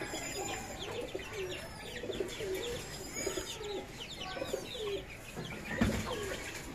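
Pigeons coo at dusk in Karachi: soft, repeated throaty coos close by, mixed with light chirps from other birds and faint background noise, with no one speaking.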